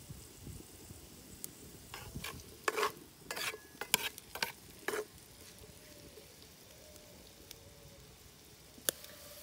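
Potatoes fry quietly in a pan under a soft steady sizzle, broken by a cluster of sharp scraping stirs and clatters in the middle and one more near the end.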